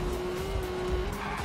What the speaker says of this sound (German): Schön lecker drum driften.